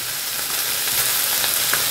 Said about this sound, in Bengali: সব একসঙ্গেই ভাজাটা হবে।